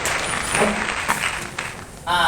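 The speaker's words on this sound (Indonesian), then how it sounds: "kasih aplaus dengan baik dulu" A school class applauds together in a classroom, a steady wash of clapping running throughout, with a brief voice or noise near the end.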